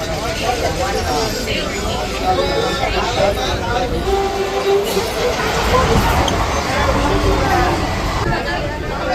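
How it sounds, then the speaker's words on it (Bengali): A local passenger train on the South Eastern Railway rumbles steadily along the rails, heard from on board as a continuous low clatter beneath someone talking. "এখন অবধি ট্রেনটা ঠিকঠাকই যাচ্ছে"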